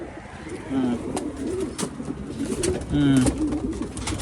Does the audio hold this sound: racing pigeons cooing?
yes